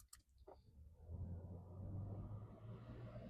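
Failing blower motor in an Audi A3 cabin, heard as a low, steady droning hum that rises and holds after a few clicks at the start, fairly quiet and close.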